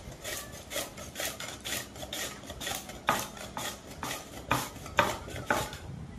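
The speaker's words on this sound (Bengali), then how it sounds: "তাই আমি এইরকম একটি গ্রেটারের সাহায্যে গ্রেট করে নেব।" Raw mango rasps against a metal grater in repeated rough strokes, a steady rhythmic scraping about once or twice a second, close and fairly loud with no voices.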